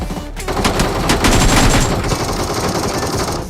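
Rapid bursts of automatic gunfire from the BGMI battle royale video game, loud and dense, with shots rattling in quick succession throughout and no speech.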